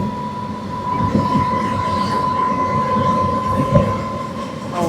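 Passenger train running through the Western Ghats on the Palakkad to Walayar line, a steady loud rumble of wheels on rails with a sustained squealing whine and faint rhythmic clatter throughout.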